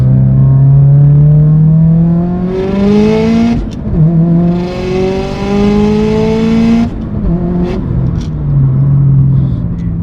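A 2018 Subaru WRX STI with a boxer engine accelerates hard, its loud, close engine note climbing steadily through the rpm range, with two distinct gear shifts that briefly drop the pitch before it rises again.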